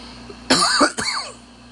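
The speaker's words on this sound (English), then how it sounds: "got the fucking coughs" Two sharp, close coughs in quick succession, the first rougher and longer, with quiet room tone after.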